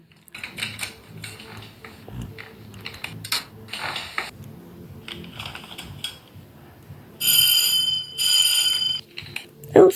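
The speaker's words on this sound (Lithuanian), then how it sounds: "skambutis į pamoką." A school bell rings for class in two sharp, loud bursts near the end, following a stretch of light mechanical clicking and shuffling.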